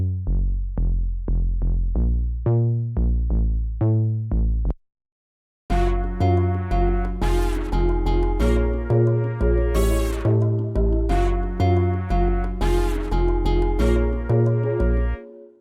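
A smooth, funky 808-style sine sub bass synth built in Serum, with softened distortion, plays a bouncing rhythmic pattern of punchy low notes, then drops out briefly before returning under a fuller, brighter layered groove.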